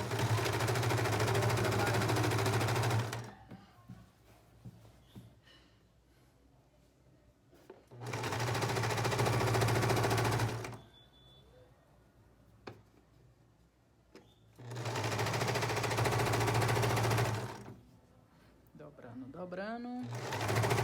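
A sewing machine stitches the hem of a viscose fabric beach cover-up in three loud, steady whirring runs of a few seconds each. Quiet pauses with handling noises and a woman's speech fall between the runs.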